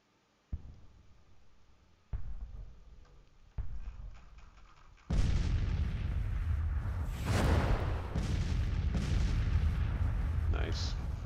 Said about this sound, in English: Let's have these guys shoot here now. Stop bombarding